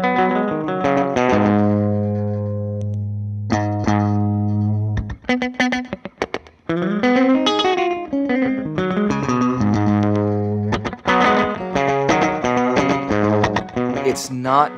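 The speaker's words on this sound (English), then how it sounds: "The ambient delay is great at being able to go from subtle slapback to huge spatial textures" Electric guitar runs through Ernie Ball ambient delay and overdrive expression pedals, playing sustained distorted chords and melodic lines with echoing repeats and spacious trails, loud and continuous with brief gaps between phrases.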